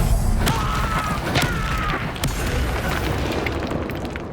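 An Incendio fire spell is cast in Hogwarts Legacy, producing a loud burst of whooshing, crackling flame and booming impacts amid a dense, continuous battle din.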